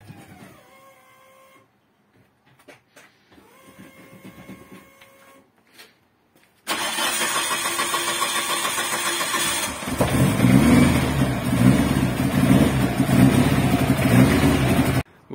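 A rally car's engine cranks and fires up, then revs loudly and steadily as the car drives onto a trailer, the roar swelling even louder partway through after quieter mechanical clicks beforehand.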